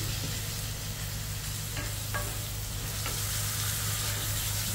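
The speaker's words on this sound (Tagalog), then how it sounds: "nagisa na natin ang bawang sibuyas. So, isunod naman natin ay ang kamatis" Garlic, onion and tomato sauté in a pan with a dense, continuous sizzle, loud and even throughout, broken only by a couple of faint utensil taps.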